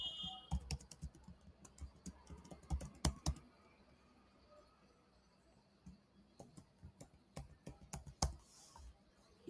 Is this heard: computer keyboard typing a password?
yes